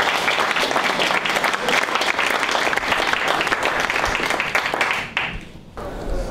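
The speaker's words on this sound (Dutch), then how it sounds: "ik mag daar best wel even een applaus voor vragen" Audience applause at a Dutch farewell gathering honoring a long-serving board member, steady dense clapping from a room of people that carries on for about five seconds before thinning out and fading near the end.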